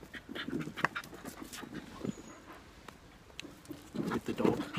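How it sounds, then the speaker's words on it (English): A dog pants with quick, irregular breaths, nearby and moderately loud, with light pattering and rustling outdoors on a summer evening. "With the dog."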